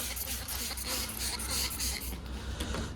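A spray bottle mists liquid onto window tint film on a frameless car window, a close, continuous hissing spray with repeated pulses from the trigger.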